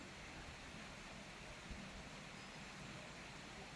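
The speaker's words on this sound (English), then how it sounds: "It's raining today." Steady rain falls outdoors in Bohol, a soft, even hiss holding at a constant low level throughout, with no voices over it.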